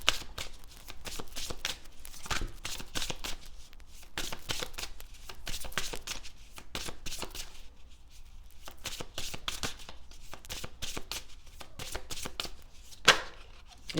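Tarot cards are shuffled close up, a dense run of rapid riffling flutters and soft slaps, followed by a single sharp snap as a card is drawn.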